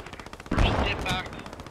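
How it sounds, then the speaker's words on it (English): A single pistol shot in the WWII shooter Post Scriptum, a close, punchy crack with a brief rumbling tail, faint background noise around it. "this pistol has like a disgusting amount of recoil"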